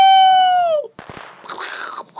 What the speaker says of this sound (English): Is that the fireworks?